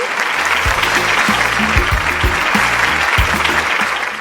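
Children's audience at a televised student quiz show clapping loudly for a contestant, a dense, even burst of applause lasting several seconds with no talk.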